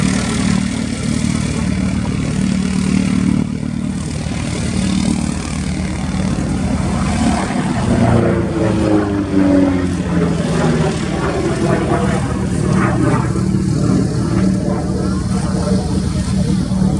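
A P-51 Mustang propeller fighter flying in an air display at RAF Cosford, its engine a loud, steady drone with a rising then falling pass through the middle, heard under ongoing commentary speech.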